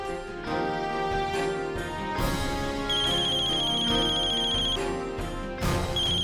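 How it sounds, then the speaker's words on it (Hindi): A telephone rings with a repeating electronic melody, loud and close, cycling through several bursts over a layered musical tone. "और निधि को आगाह करने के लिए सबसे पहले ज्योति ने निधि को फोन किया"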